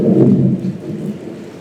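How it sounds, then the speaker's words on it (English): Stage thunder and rain effect in a high school theatre production, a low rumbling roll with a steady wash of rain, loud at first and easing off slightly across the short stretch, with no voices. "It's been pouring and thundering."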